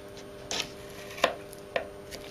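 A knife cuts thin slices from a block of ordinary salted pork fat, giving three or four separate crisp taps on a board at uneven intervals. The cuts are close and clear in an otherwise quiet kitchen.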